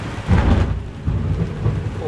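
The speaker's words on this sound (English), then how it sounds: "That is a really bad thunderstorm." A heavy thunderstorm roars around a sailboat, a Catalina 36 under refit, with loud rumbling thunder rolling over steady hard rain, close and dense with no talking.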